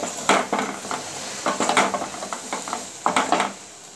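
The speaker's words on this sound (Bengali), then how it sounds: "দিয়ে ভালো করে নাড়াচাড়া করতে হবে" Okra curry is stirred in a frying pan: a spatula scrapes and clinks against the metal in short bursts over a soft background sizzle, fairly close and moderately quiet.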